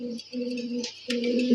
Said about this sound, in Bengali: এই যে পাগলা পায়রাটা আমার